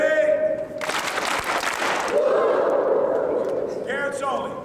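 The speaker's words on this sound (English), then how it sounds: "please give Michael 3 claps and a woo" A crowd of campers and parents at a 1993 youth basketball camp bursts into loud clapping and cheering for about a second, with a voice speaking before and after the burst.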